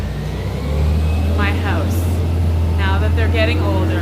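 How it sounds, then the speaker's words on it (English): A loud garbage truck rumbles past outside a house, its heavy engine drone rising and holding steady beneath someone speaking nearby. "That was the garbage truck doing the other side."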